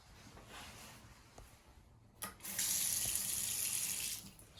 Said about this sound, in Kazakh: Судың ағу жылдамдығы жоғары.